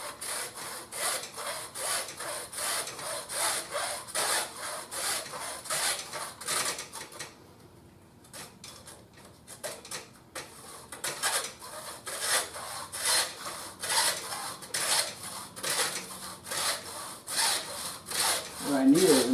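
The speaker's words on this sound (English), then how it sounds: "Doesn't matter, we don't have to go fast, we just want to get a nice smooth, clean cut." A saw works slowly through the shafts of a set of golf irons with steady back-and-forth strokes in an even, close rhythm. The strokes pause for a couple of seconds midway, then resume.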